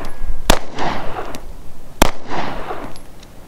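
Two loud, sharp handgun shots fired about a second and a half apart on a shooting range, each snapping crack followed by a brief ringing echo.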